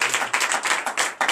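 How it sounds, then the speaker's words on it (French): Hands clapping at a Sunday church service in Benin, a quick run of sharp, close claps with a rough rhythm, about eight beats in under two seconds, with no one talking. "Ma fille Sandrine applaudit."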